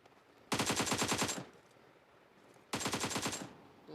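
Two rapid bursts of automatic gunfire from PUBG Mobile on the Erangle map, each lasting roughly a second, loud and close, separated by a brief quiet gap.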